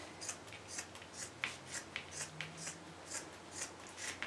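Scissors cut straight across a flattened T-shirt just under the arm, a close, steady run of crisp snips in an even rhythm, with no talking.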